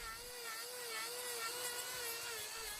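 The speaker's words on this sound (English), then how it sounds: "we picked up our trusty angle grinder and set about fixing it" An angle grinder whines steadily while trimming a cow's hoof held up in a crush, a continuous high-pitched motor tone with a slight wavering pitch, close and alone.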